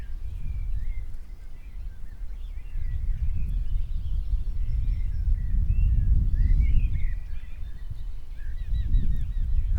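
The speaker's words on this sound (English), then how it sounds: "let me end it with a little bit of bird sounds" Birds chirp and call in short high twittering phrases, moderately distant, over a loud continuous low rumble of wind or traffic that dominates the background.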